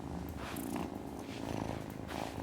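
Steady, close cat purring from the Wylde Flowers video game, a soft continuous rumble that pulses gently with no voices over it.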